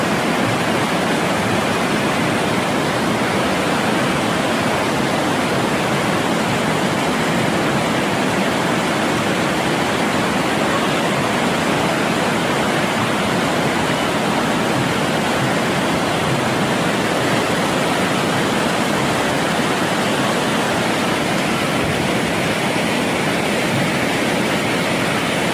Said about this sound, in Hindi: जो पृष्ठभूमि में आप ये पानी की आवाज़ सुन ले रहे हैं, तो पानी बांध के द्वारा छोड़ा गया